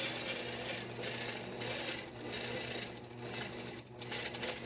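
Long arm quilting machine stitching raw edge appliqué, a continuous close mechanical whir with a steady buzzing hum and slight changes in pace.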